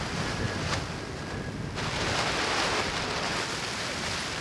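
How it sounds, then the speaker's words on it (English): Strong Arctic wind roars and buffets the microphone steadily throughout, a loud broadband rush with gusty swells and no voices. "The wind, it's awful."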